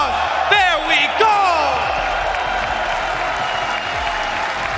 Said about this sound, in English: can we get a thunder, a roaring crowd from the audience? A strong applause, there we go!